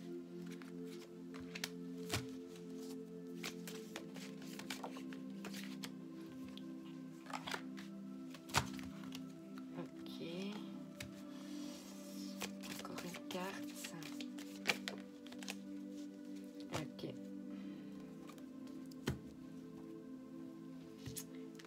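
Tarot cards being drawn and shuffled from a deck in a small indoor space, with soft repeated papery slaps and rustles, close and fairly quiet, under an ongoing hum and occasional voices.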